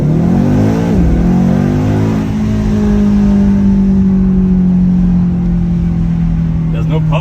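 A BMW XM hybrid super SUV engine revs loud and close in Sport Plus mode, climbing quickly and then holding a steady, droning high-rpm tone for several seconds before easing off.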